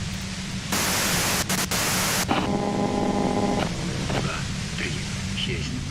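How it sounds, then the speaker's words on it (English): Harsh radio white-noise static hisses in the video game Disco Elysium, bursting loudly into a broad wash before settling into a steadier hiss, with a voice speaking over part of it. "If you've got something really important to say, you can do it through the white noise."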